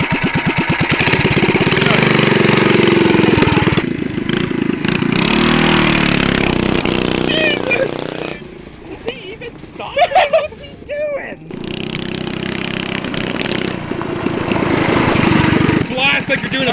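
A go-kart powered by a Predator 212 Ghost racing engine runs loud and close for most of the stretch, with a brief lull midway where voices and rustling come through before the engine roars back.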